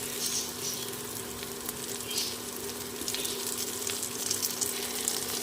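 Chopped eggplant added to frying onions in a pan gives a steady close sizzle with watery hissing bursts and occasional stirring, over a constant low hum, with no talking.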